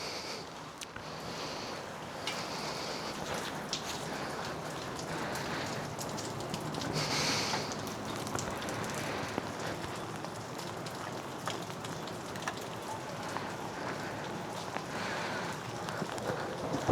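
Rain falls steadily during a motorcycle ride from Wayanad to Mysore on a TVS Apache, a dense wash of drops and spatter under road and wind noise, continuous and fairly loud throughout.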